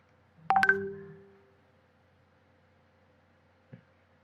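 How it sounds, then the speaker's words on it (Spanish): A telephone giving off electronic call tones: a sharp burst of layered beeps and chime-like tones that rings out and fades over about a second, then quiet and one faint short blip later. "me están llamando por teléfono estudiantes"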